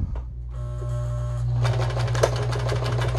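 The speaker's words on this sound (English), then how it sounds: "I like to place my needle down into the fabric before I start sewing." A Meister 76 programmable sewing machine hums, then runs at speed through fabric, giving a steady loud whirring motor with a fast rhythmic needle chatter, close up and without talk.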